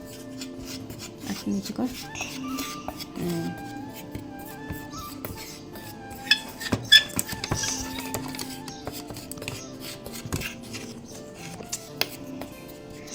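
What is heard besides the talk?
mixing homemade herbal sindoor powder in a bowl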